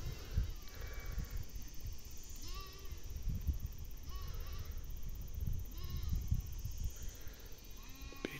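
Goats on a hillside bleat at scattered intervals, several separate calls at moderate distance over a soft outdoor background, with no talking.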